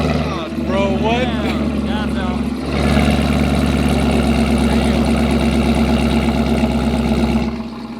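A cold Camaro SS with an AWE Touring non-resonated catback exhaust idles loud and close, a deep pulsing burble that swells after a few seconds and holds steady, with voices talking over it early on.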